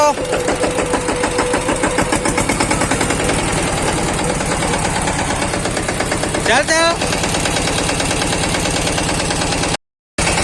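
A tractor's diesel engine chugs in a fast, even putter close by, with a brief voice calling out over it.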